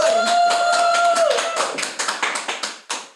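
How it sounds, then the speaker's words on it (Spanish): Applause from an audience at a Spanish-language feminist event, dense clapping over a sustained tone at first, then thinning into scattered, separate claps toward the end. "Fuertes aplausos para ella, por favor."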